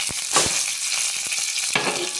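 Green chilies and curry leaves hit hot oil after mustard seeds have popped, giving a steady close sizzle and fry with a few sharp crackles and stirring knocks, no voices.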